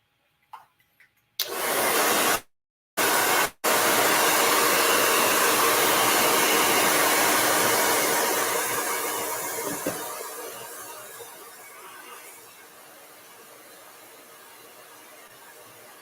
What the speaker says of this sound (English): so blow dryer